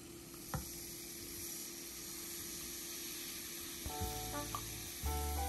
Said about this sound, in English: We hear that fizz.